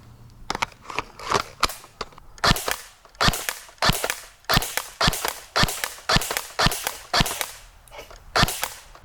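An airsoft gun firing rapidly at about 14 rounds per second, sharp snapping shots in a series of short bursts, fairly close, with brief pauses between volleys.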